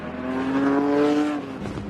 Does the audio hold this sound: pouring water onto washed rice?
no